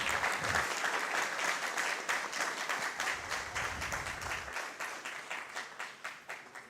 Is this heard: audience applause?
yes